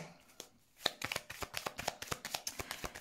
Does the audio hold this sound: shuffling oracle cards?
yes